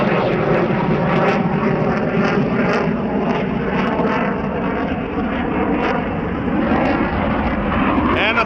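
Another F-16 fighter jet passing overhead above a marsh, a loud sustained roaring rumble that holds steady for several seconds, with a voice faintly mixed underneath.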